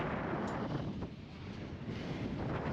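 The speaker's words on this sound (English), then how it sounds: "It's so windy up here." Strong wind on a high point in Ouachita National Forest, Oklahoma, buffets the microphone with a loud, continuous rushing roar, steady and close throughout.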